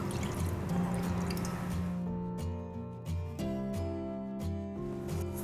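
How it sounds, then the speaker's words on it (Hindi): A cup of water is poured into a bowl of semolina, gram flour and yogurt batter, giving a brief liquid splash at the start before background music takes over. "इसी कप से एक कप पानी डालेंगे।"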